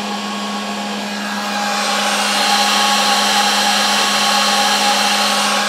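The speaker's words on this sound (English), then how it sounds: "I'm trying to get this spindle going" A 3018 CNC router spindle rated at 12,500 RPM spins up with a steady high-pitched whine that rises slightly in pitch and volume after a second, then holds constant and loud with no talking.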